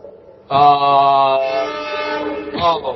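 A train horn sounds outside, a sustained harmonic blast of about two seconds followed by a shorter second blast, fairly loud and heard alone.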